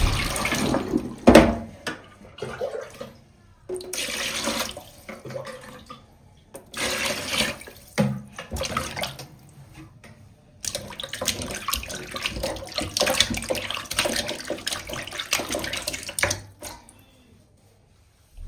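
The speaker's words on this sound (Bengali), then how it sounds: "দেখুন কত সুন্দর পরিষ্কার করে আমি ধুয়ে নিচ্ছি।" Running water splashes as raw goat meat is rinsed in a basin, in irregular gushing bursts with brief pauses and clattering handling, fairly close.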